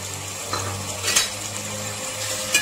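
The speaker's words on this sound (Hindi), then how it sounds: "यहाँ देखिए मैं आधा कप ऑयल जो है वो गर्म हो रहा है, इसमें हम ये स्लाइस में कटी हुई प्याज डाल देंगे।" Sliced onions dropped into half a cup of hot oil, a steady sizzling hiss of frying with a few light clinks of utensils against the pan.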